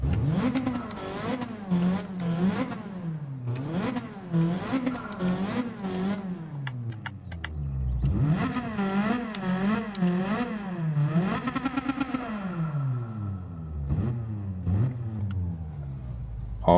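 A Nissan Skyline Super Silhouette '84 race car in Gran Turismo 7 revs hard through repeated rising and falling engine sweeps, a loud, raspy motor climbing and dropping in pitch with gear changes, heard alone.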